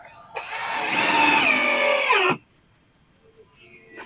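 A cordless drill whirs for about two seconds, driving a screw into a wooden Adirondack chair. Its loud, rising whine cuts off abruptly into near silence.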